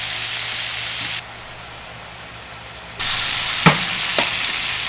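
Bacon and mushrooms fry together in a pan with a steady, bright sizzle that drops away briefly, then returns loud, with a couple of sharp pops or stirring knocks near the end.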